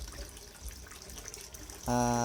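Water pouring from a container into a tank as a DIY oxygen aerator for weakened fish during a power outage, heard as a steady splashing stream under faint background noise that turns louder and fuller near the end.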